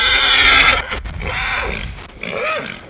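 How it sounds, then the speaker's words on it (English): A quarter horse, a ten-year-old gelding still sore after recent castration, gives a loud, close whinny whose wavering calls rise and fall over a few seconds, with no voices over it. "Now he's a quarter horse, and he is exquisitely beautiful."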